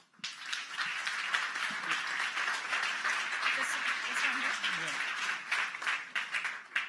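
A crowd at a Lisk blockchain meetup in Berlin applauds a speaker coming up to present, steady moderately distant clapping that starts abruptly and holds for several seconds, with a few voices faintly underneath.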